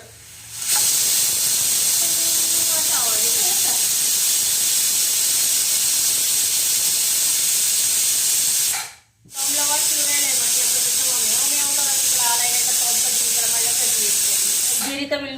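A pressure cooker whistle releases a loud, continuous hiss of steam that runs nearly the whole time, dropping out briefly once, while someone talks over it.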